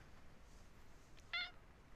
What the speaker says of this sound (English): You just get one meow.